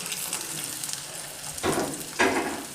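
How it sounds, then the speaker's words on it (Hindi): Chicken shami kebabs frying in a pan over medium-low heat, a steady soft sizzle with two louder bursts as more kebabs go into the oil. "हम जो है कबाब जो है इनको फ्राई करते हैं"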